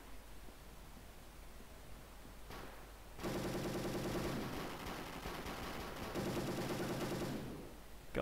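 Rapid automatic gunfire in an online free-for-all match of Call of Duty: Black Ops on Nintendo DS, a dense rattling burst that starts suddenly after a quieter stretch, pauses briefly, then carries on before stopping.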